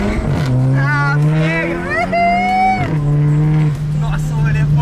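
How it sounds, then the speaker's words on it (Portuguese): An Audi TT engine revs and accelerates, a loud sustained drone rising in pitch in two pulls with a brief dip between them, close and continuous. "Dá uma aceleradinha aqui, legal."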